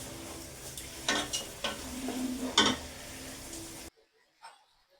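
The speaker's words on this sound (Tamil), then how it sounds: "இப்போ இந்த வெங்காயம் தக்காளி புதினா எல்லாம் வதங்கட்டும்" Onions, tomatoes and mint with ginger-garlic paste sautéing in a pan for chicken biryani, a steady close sizzle with several scraping stirs, cutting off abruptly near the end to near silence.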